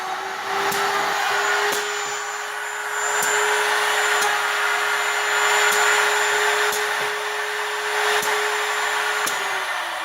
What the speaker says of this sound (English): And route.